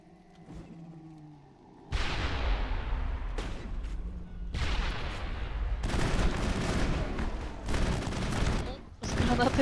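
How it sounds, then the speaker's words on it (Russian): Combat in the video game Mass Effect: a grenade blast and dense bursts of gunfire, loud and repeated, coming in heavy waves after a quiet opening. "А если я в них гранату кину?"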